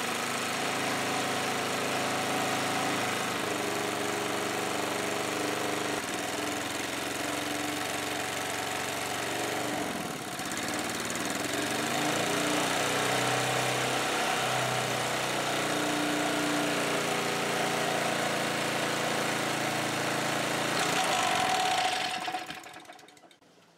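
A small engine running on wood gasifier gas with a faulty regulator, droning steadily and loudly with a rough, slightly uneven tone, briefly dipping midway before faltering and cutting out at the end.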